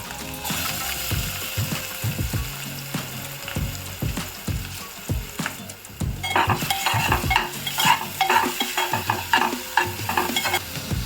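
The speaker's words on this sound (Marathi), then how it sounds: "इथे आपला कांदा झालेला आहे फ्राय." Chopped onion fries in a pan for baingan bharta, with rhythmic, close scraping and stirring strokes over a continuous sizzle that grows busier and louder toward the end.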